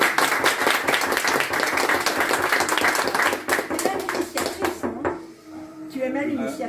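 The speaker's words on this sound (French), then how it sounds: "je trouve qu'on devrait vraiment applaudir" Lively applause from an audience at a screening and speech event, dense clapping for several seconds before tapering off as voices and room noise take over.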